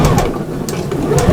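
A sewing machine stitches a cushion in quick, close, rhythmic bursts of mechanical whirring, with a voice heard over it.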